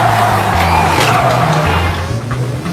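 Race car sliding sideways at speed, a loud continuous engine drone with rough tire scrub and skidding throughout, close and steady, no talk.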